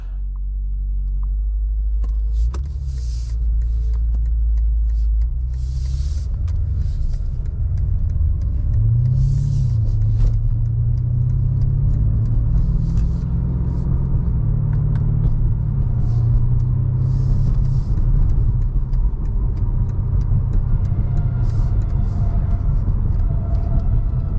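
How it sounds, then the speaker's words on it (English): A Nardo Grey 2021 BMW M5 Competition (F90) drives in sport mode, its engine a steady, loud low rumble throughout with some rising revs, and no talk over it. "So let's go to setup and drive it in sport mode. It's an M5."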